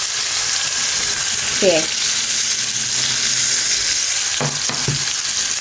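Green masala pomfret fish fries steadily on a gas flame turned to slow-medium, a constant hiss of oil filling the scene with a couple of faint clinks and a brief voice breaking in.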